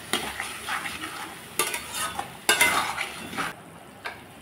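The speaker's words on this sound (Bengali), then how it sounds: "মশলাটাকে ভালোভাবে কষিয়ে নিলাম।" Spice paste for a jackfruit kofta curry fries in oil while a spatula stirs and scrapes the pan, with soft sizzling and a few sharp metallic clinks.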